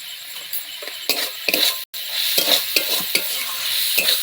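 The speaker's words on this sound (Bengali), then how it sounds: "আমি কষিয়ে নেব, যাতে না জলটা থাকে।" Chicken stir-fried in oil in a pan with black salt added, a steady close sizzle broken by repeated scraping stirs of a spatula against the metal, with one brief dropout in the middle.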